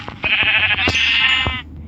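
A single Minecraft sheep bleats loudly and up close, a wavering nasal call lasting over a second, with a few sharp clicks around it.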